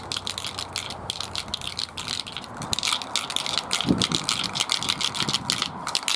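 A spray paint rattle can shaken hard and steadily close by, the mixing ball clattering in a fast rhythmic stream with no pauses and no talking.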